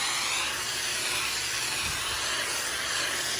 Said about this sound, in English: When you spray texture, you want to keep it parallel with the surface against which you're spraying the texture.